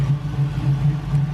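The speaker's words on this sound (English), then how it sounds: "We got the thing idling and revving perfectly." An LS-swapped Camaro engine idles with a steady low, throbbing rumble that pulses slightly, close and fairly loud, with no voices.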